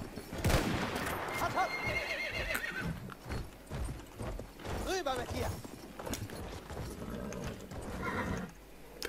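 Horses neigh loudly and hooves clip-clop across open ground in the World War I shooter Battlefield 1, with long whinnies standing out near the start and middle over steady battlefield noise and people talking.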